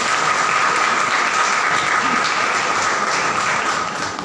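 An audience claps for a recited poem, with dense, loud, sustained applause that holds steady throughout and eases slightly at the very end.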